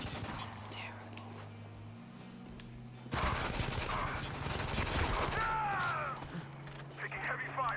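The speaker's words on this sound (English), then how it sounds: "Taking heavy fire." Heavy gunfire in the video game Spec Ops The Line: a quiet stretch of low game ambience gives way to a dense, loud burst of rapid automatic fire and whizzing shots, with faint voices beneath.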